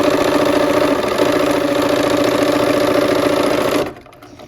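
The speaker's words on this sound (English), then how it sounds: "this is just good therapeutic sewing here" A sewing machine runs steadily while stitching a quarter-inch seam on a Basket of Plenty quilt, a continuous close mechanical whir that stops abruptly near the end.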